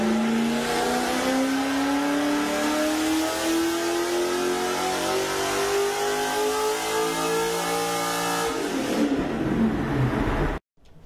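A Toyota 1UZ V8 drift car with equal length headers revs loudly and close, its pitch climbing steadily for about nine seconds before the engine drops off and cuts out.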